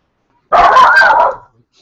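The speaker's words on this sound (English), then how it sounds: "Now you get to hear my dog." A pet dog gives a single loud, close bark that lasts about a second and cuts off into silence.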